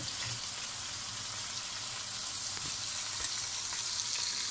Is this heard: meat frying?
yes